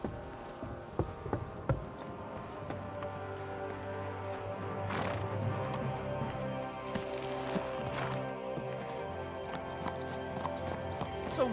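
Horse hooves clip-clop steadily at a walking pace in Kingdom Come: Deliverance II, fairly close, with a few louder taps early on and a low ambient hum underneath.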